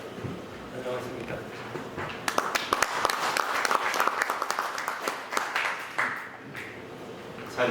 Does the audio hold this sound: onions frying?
no